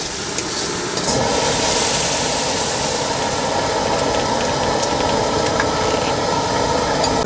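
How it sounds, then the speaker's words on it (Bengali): Boiled dal is poured into hot oil and bursts into a loud, steady, broad hissing sizzle that starts abruptly and carries on evenly at close range, with no talk. "এখন আমরা ডালটা তেলের পরে দেব"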